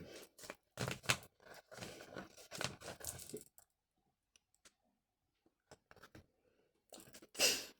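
Tarot cards from an Egyptian-themed deck are shuffled and tucked away, giving a dense run of close papery clicks and riffles, then a quiet stretch with scattered small taps and a final crisp burst of card handling.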